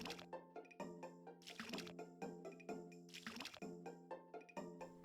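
Crop watering in Harvest Moon: Grand Bazaar, a series of soft watery splashes landing in an even rhythm over a sustained tonal music bed, fairly quiet.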